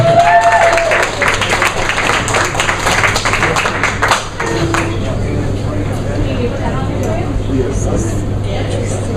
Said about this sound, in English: so give him an applause too